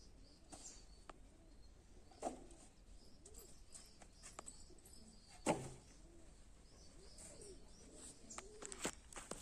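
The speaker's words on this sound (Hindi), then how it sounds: "कबूतर सही है भाई हमारे, सवेरे सवेरे आ जाते हैं, रौनक कर देते हैं घर में।" Pigeons coo softly and repeatedly at home in the morning, with several overlapping calls and a few faint chirps and clicks at low volume.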